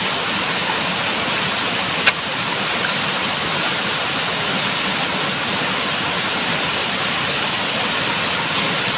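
A strong, slightly warm flow of water falls from a stream, giving a loud, continuous, close rushing roar that holds steady throughout, with one brief knock partway through.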